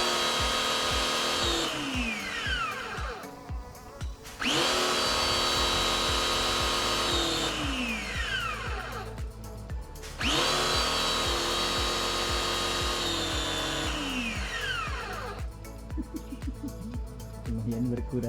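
A Soarfly 680 watt jet cleaner pressure washer fitted with an aftermarket gun runs in repeated cycles, its motor whining up and dropping away several times, loud and close throughout.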